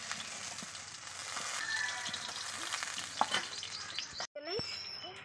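Fried fish pieces sizzle in hot oil in a home kitchen while a Bengali mixed-fish curry is prepared, giving a steady, close crackle with a few utensil scrapes and knocks near the end.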